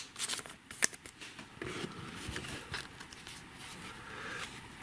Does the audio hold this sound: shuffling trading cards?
yes